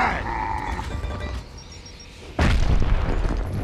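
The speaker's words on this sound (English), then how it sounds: "Throwing frag!" A frag grenade goes off in the Gears of War: Ultimate Edition video game, a single loud booming blast that breaks in after a quieter stretch of game ambience and rumbles on to the end.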